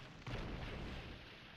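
Ships explode in an Age of Empires 2 game: a muffled boom hits after a short lead-in and rolls into a sustained low rumble that slowly fades.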